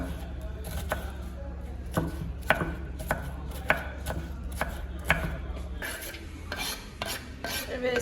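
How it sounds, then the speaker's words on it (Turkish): A knife chops large dry onions steadily on a cutting board, sharp knocks at an uneven rhythm over a low constant hum, close by. "annem 2 tane büyük kuru soğan doğruyor arkadaşlar"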